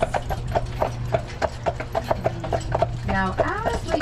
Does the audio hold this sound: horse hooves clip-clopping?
yes